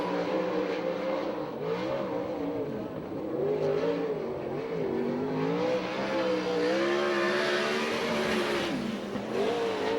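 A USAC/CRA sprint car screams around the track on a qualifying lap, its high-revving engine loud and continuous for the whole stretch, pitch rising and falling with each throttle change through the turns.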